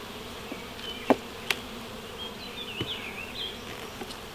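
A steady low drone of many honey bees buzzing close by at a hive, with a few sharp taps and clicks scattered through it.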